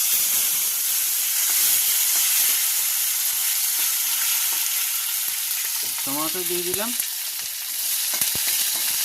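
Tomatoes fry in a pan for a sour fish curry, a steady loud sizzle and steamy hiss with occasional stirring clicks and a short tonal squeal midway, no one speaking.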